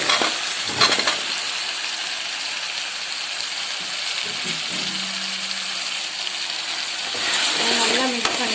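Drumsticks fry in hot oil with a constant, close sizzle while a spoon stirs them now and then, and faint voices murmur partway through.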